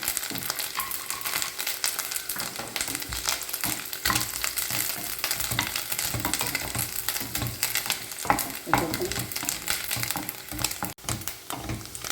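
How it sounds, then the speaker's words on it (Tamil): Cashew nuts and grated coconut roasting in ghee in a pan, a steady close crackling sizzle with occasional stirring scrapes, running continuously without any voices. "இப்போது நம்ம முந்திரி பருப்பு அதில் சேர்த்து வறுத்துடலாம்"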